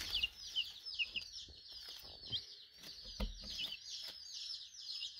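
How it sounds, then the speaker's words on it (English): New chickens in a coop give repeated high clucks and chirps close by, along with scattered soft knocks and shuffling from the birds moving about. "I just wanted to show you guys the new chickens."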